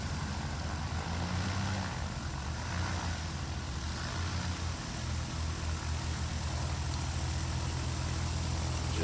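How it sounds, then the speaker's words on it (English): A light Piper aircraft taxis past at Music City Executive Airport during short-takeoff practice, its engine and propeller holding a steady low drone that stays even and fairly close throughout, with no voices. "Jeff Abrams taxiing by with his arm out window"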